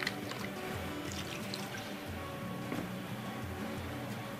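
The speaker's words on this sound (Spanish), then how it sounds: "voy colocando agua y le voy dando como vueltas" Quiet trickling and dripping of water poured into arepa flour while it is stirred and turned by hand, a soft steady wet sound with faint splashes.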